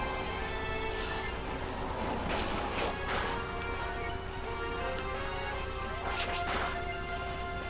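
Pokémon X battle attack effects: a series of sharp digital smacks and swishes, with one cluster around two to three seconds and another near six seconds over a steady synthetic game music bed.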